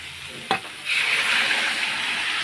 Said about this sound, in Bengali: এখন আমি খোলার ডালগুলো দিয়ে দেবো এই যে খোলার ডাল সিদ্ধ করা